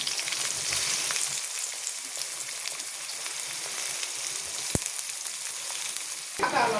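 Onions frying in plenty of hot oil for a fish dish, a steady loud sizzle running throughout with a brief stirring knock near the end.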